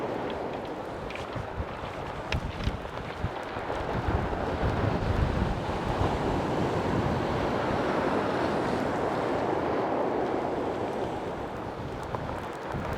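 Sea waves wash and churn steadily against the shore during Storm Henk with a broad, rushing surf sound and some wind buffeting the microphone, no voices.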